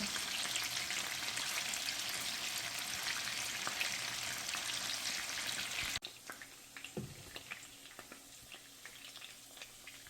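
Chicken muthi kebabs sizzle and fry in a pan with a little water, a steady loud hiss that drops abruptly midway to softer crackling and spitting as the pieces are turned.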